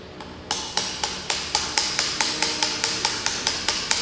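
A weight is hammered into a motorcycle handlebar, a steady run of about fourteen sharp metallic strikes at an even, fairly quick rhythm, close and loud with no talking.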